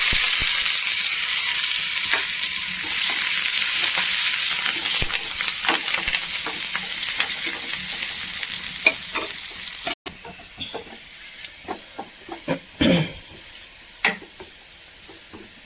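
Chopped onion and curry leaves fry loudly in oil with fenugreek seeds for a snakehead fish curry, with a continuous close sizzle and frequent scraping stirs; after about ten seconds the sizzle drops abruptly to a quieter crackle with scattered clinks.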